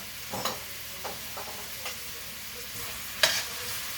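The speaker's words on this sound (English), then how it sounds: "You just want to saute them" Onions sautéing in a pan for braised beef, a soft steady sizzle broken by a few sharp scrapes and taps of a utensil stirring, close and fairly quiet.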